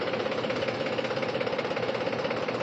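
Tractor engine idling steadily after a power steering repair, a continuous close mechanical drone with a fast even knock running through it and no voices.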